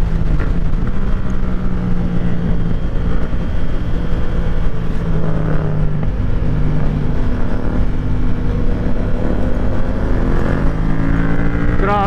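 Yamaha MT-07 motorcycle riding steadily and accelerating through gears, a continuous loud engine drone with wind rush, and pitch shifting gently as it picks up speed.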